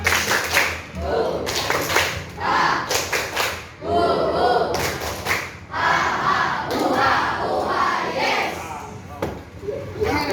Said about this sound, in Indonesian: Ya, biar semangat, tepuk semangat.